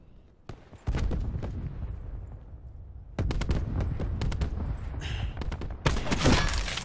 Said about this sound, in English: Where are you shooting?